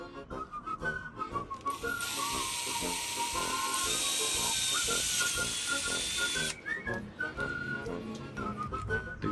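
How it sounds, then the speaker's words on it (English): A high-pitched drill whines steadily for about five seconds while boring a hole in an egg, with people talking beneath it before and after. "drilling a hole."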